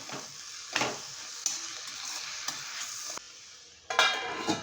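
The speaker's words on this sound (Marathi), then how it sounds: "छान व्यवस्थित ढवळून घ्यायचं आहे" A spatula stirs radish and chana dal sabzi in a pan, with several scraping strokes over a steady soft sizzle, close and clear with no talking.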